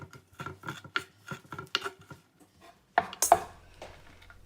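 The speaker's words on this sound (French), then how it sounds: "je commence à couper mon persil et ma coriandre" A kitchen knife chops fresh parsley and coriander on a board in quick, crisp, irregular strokes, close and fairly quiet, with a brief clatter near the end.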